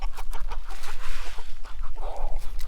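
Several chickens clucking and murmuring close by, busy overlapping calls with a few louder squawks among them.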